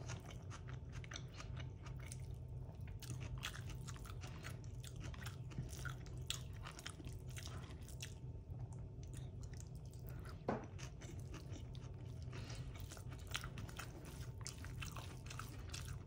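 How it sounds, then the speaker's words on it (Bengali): Someone chews and eats beef curry with tough, firm meat, giving soft, wet biting and mastication sounds close to the mic over steady low background noise, with one sharper crunch partway through and no talking. "আমি আরাম করে খাই।"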